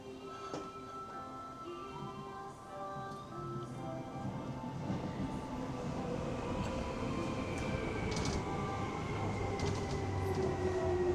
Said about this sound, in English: There's a choo-choo out there.